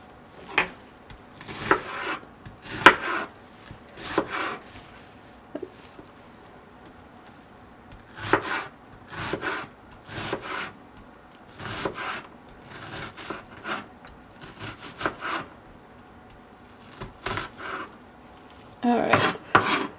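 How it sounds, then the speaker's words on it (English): A knife cuts through an onion on a board for Singapore noodles, bursts of crisp rasping slices and taps coming in irregular clusters, close and fairly quiet, with no talking. "we're gonna go ahead and start cutting the onion"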